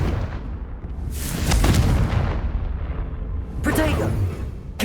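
The Confringo explosive spell cast in the Hogwarts Legacy PC game, heard as loud, booming blasts with crackling bursts, with a voice over the game sounds.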